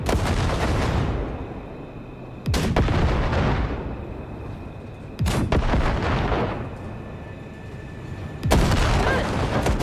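Heavy cannon fire from a Basilisk cargo ship's guns blasting wrecks in Cyberpunk 2077: four loud, booming blasts spaced a few seconds apart, each trailing into a long rumbling decay, with no talk.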